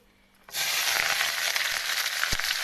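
Chopped onion, green chili and garlic hit hot oil in a pan, setting off a sudden loud sizzle that continues as a steady, bright hiss with small crackles and pops.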